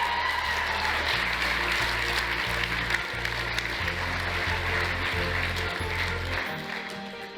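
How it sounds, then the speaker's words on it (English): A keynote audience applauds a volunteer named Crystal with steady, dense clapping under a pulsing low musical beat, fading slightly toward the end. "Give Crystal a round of applause"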